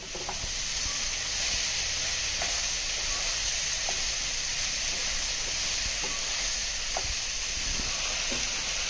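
Chopped homegrown ivy gourd (kovakka) fries in a pan with a loud, steady close sizzle, and faint clinks and scrapes of stirring come through under it.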